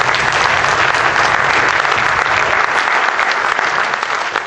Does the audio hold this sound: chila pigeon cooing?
no